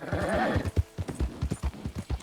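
White Arabian horse in Red Dead Redemption 2 clip-clopping at a steady trot, a close, even rhythm of hoofbeats with a brief whinny-like snort at the start.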